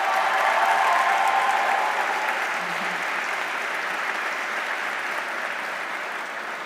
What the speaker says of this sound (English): big round of applause for our Madrid team